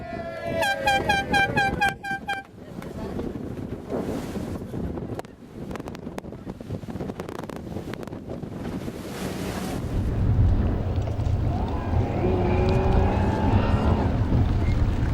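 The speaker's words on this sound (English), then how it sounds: "The Southwold Inshore lifeboat is out to meet them too." Southwold Inshore lifeboat out at sea off the Norfolk coast, with wind buffeting the microphone, waves and engine rumble, beginning with a burst of rhythmic beeping tones.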